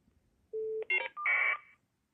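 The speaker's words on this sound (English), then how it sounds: "That is what caller ID sounds like." Caller ID FSK data tones on a landline phone line, preceded by a steady single tone, then short stacked tone bursts and a longer warbling data burst, with a faint echo, clear and alone without talk.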